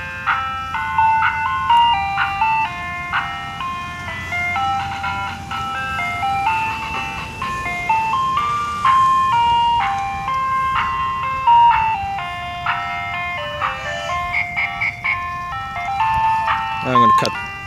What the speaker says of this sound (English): Here it comes, the ice cream truck.